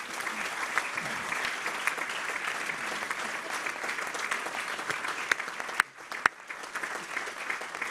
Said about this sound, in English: Indeed, I was going to ask for that applause, but I'm thankful that you gave it without me having to ask for it.